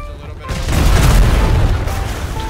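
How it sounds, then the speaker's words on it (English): Heavy cannon and mortar fire in a naval video game battle against a galley, a deep booming roar swelling loudly and rumbling for about two seconds, with faint voices beneath. "Three mortars blasting. All heavy cannons on the galley."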